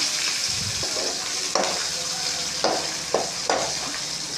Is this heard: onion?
yes